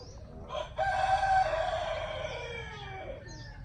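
A white-eared decoy rooster gives a single long crow close by. The call swells loudly after a short clucking lead-in and then trails off, with a faint bird call near the end.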